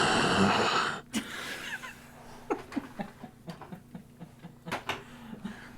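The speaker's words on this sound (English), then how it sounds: "Stop breathing in the microphone." Close, breathy exhalations and puffs right on the microphone, a loud rushing burst at first, then a series of short uneven breaths and snorts.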